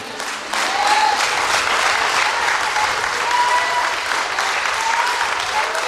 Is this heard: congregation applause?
yes